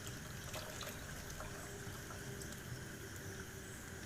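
Whey from curdled milk drains out through a cloth strainer, a soft continuous trickle of liquid running steadily and faintly, close by and alone.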